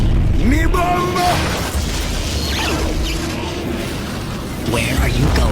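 A cartoon-style bomb explosion effect plays loud and close: descending whistles followed by deep booming rumbles, repeated a few times in quick succession.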